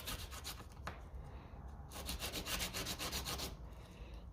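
Parts from a 1956 Lucas D3A4 Ferguson distributor rubbed clean by hand, giving a steady, close scuffing and scrubbing sound with brief pauses. No one speaks.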